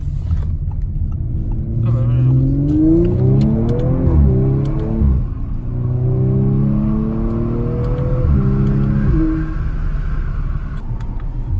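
Audi RS sports car engine revving hard under acceleration, the pitch climbing through several gear changes with brief dips between them, loud and close from inside the car.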